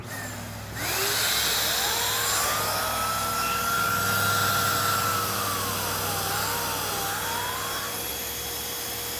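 Eureka AirSpeed Unlimited Rewind AS3030A vacuum cleaner running with its turbo brush, a loud steady motor whine and airflow roar that holds throughout after a brief quieter start, with a sweeping tonal pitch rising and falling.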